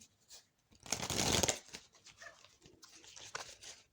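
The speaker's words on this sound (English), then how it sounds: "it does shuffle very nicely" Close, crisp riffling of tarot cards being shuffled in quick bursts, with softer flicks and shuffles continuing after, no talking.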